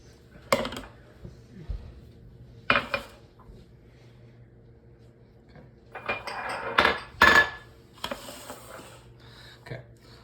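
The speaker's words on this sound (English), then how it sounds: "I'm gonna slowly start adding my ingredients" Pizza dough ingredients go into a bowl with scattered clinks and knocks, a few isolated taps early on and a busier cluster of clattering near the end, moderately close in a quiet kitchen.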